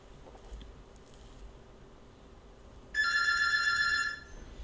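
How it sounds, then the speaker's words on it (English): A telephone rings with one bright, trilling electronic burst lasting about a second, louder than the low room hum beneath it, with no one talking over it. "So the phone's ringing."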